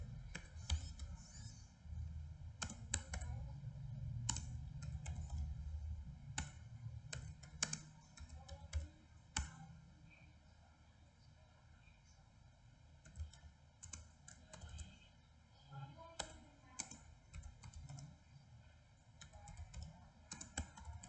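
Typing on a computer keyboard while entering Linux commands, with a close, quiet run of irregular key clicks that thins out after the first half, with no talk over it.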